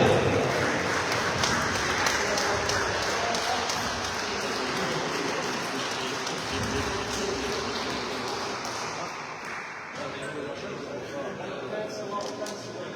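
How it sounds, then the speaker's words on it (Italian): Applause from the audience at a veterans' open awards ceremony in Alghero as first place is announced, a broad steady clapping wash over thirteen seconds that thins slightly toward the end, with some voices mixed in. "Un applauso grande."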